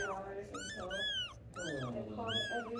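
Rescued roadside kittens meow repeatedly in short, high, rising-and-falling cries, close and fairly loud, while people talk nearby.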